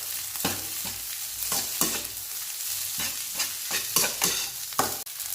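Fried rice is stirred in a frying pan with mushroom stock and salt, making repeated rhythmic scraping strokes roughly every half second over a steady sizzle, close and clear.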